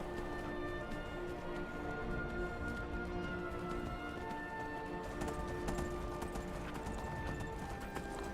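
Horse hooves clip-clop steadily in the Skyrim video game, a continuous rhythmic gallop heard close and fairly loud over a dense game background, with no voices over it.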